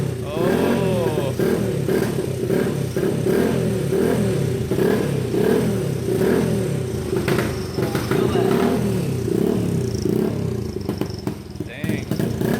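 A motorcycle engine just brought back to running, revving hard in repeated rising and falling pulls close by, with mechanical clatter over a rough idle and people talking in the background.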